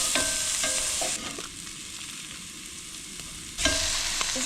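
Meat fries in a pan at a campsite, a continuous loud sizzle with stirring scrapes, quieter in the middle before flaring up again.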